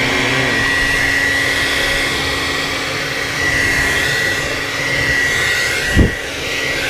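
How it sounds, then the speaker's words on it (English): Hair dryer blowing water out of a rusty gas tank, a steady close whooshing airflow roar running throughout with a brief sharp knock near the end. "Alright, got a hair dryer here."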